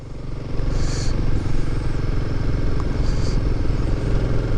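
A motorcycle rides along a snowy mountain road in Arunachal, with a steady, close engine drone and rumble throughout and a couple of faint high squeaks.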